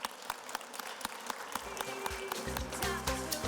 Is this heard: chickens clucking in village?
no